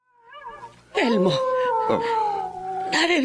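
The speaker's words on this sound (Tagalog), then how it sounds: "naririnig mo ba ang alulong na yon?" An eerie animal howl, dog or wolf-like, rises loud and sustained with wavering pitch, overlapping a second fainter howl, in a Filipino drama scene.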